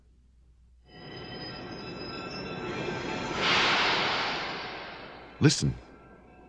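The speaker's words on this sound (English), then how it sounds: "Is it a plane or a train? It's a train." A train rumbles past with a steady rolling roar that swells and fades, ending with a sharp squeal or horn blast; a voice speaks briefly at the start.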